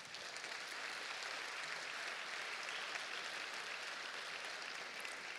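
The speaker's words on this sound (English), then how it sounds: "Let's give a round of applause to recognize all the veterans in our audience" An audience in a high school gathering applauds veterans, a faint, distant, even wash of clapping that stays level throughout.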